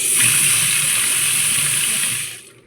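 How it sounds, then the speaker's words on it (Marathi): Water gushes hard and fast from a tap into a 500-litre storage tank after a new filter was fitted, a loud steady rushing roar that holds for about two seconds, then fades away. "आज जरा पाणी बघा ना कसलं स्पीड आहे"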